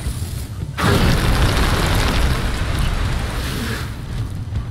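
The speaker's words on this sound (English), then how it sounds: "Drop pod has arrived." A drop pod lands in the video game Deep Rock Galactic: a sudden heavy boom after a quiet moment, then a loud sustained rumbling, mechanical roar that holds for several seconds before easing slightly.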